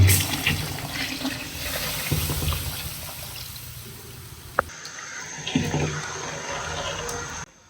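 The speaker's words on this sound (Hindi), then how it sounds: "और हम इसमें ऐड करेंगे वाटर" Water pours steadily into a large cooking pot of beef and rice for vegetable pulao, a continuous close gushing splash that stops abruptly near the end.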